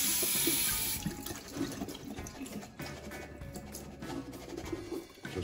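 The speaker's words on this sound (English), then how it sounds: "I'm going to throw it into the sieve. And give it a quick rinse." Sweet corn is rinsed in a sieve under a running tap, a close steady gush of water that eases and continues with splashy fluctuations throughout, no voices.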